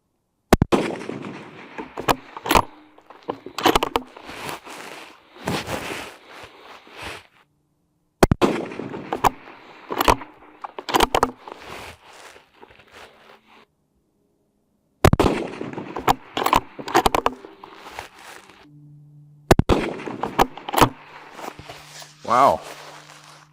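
Sharp, loud gunshots from a CVA Cascade rifle crack out in separate bursts across an outdoor range session, each followed by quiet gaps, with people talking between shots.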